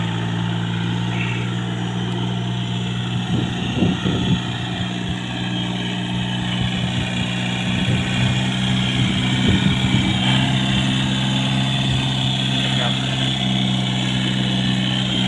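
A used Japanese-import Kubota L1-20 tractor with a 20-horsepower three-cylinder direct-injection diesel idles steadily nearby, a low, even rumble held throughout with slight surges in the middle.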